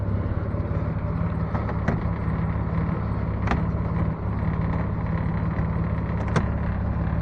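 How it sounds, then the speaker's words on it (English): An old car's engine idles as it warms up. A steady, close rumble holds throughout, with a few faint clicks over it. "Always let your car warm up, especially if you got an old car."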